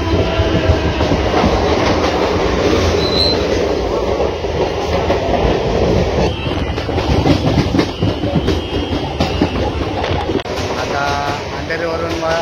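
A Mumbai suburban local train runs between Andheri and Virar, loud and close with a steady rolling rumble and rhythmic clickety-clack of wheels, people's voices faintly mixed into the din.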